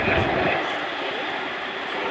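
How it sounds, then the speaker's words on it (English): A Chinook HC5 helicopter taxiing back to its parking spot at an air show, a loud, steady turbine roar with rotor wash filling the air throughout. "The Chinook clearing back to its parking spot."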